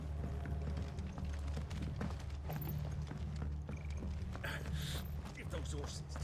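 Horses gallop in Final Fantasy XVI, a steady clip-clop of hooves running under a low rumbling game soundtrack, with scattered mechanical clinks and a brief whinny-like cry.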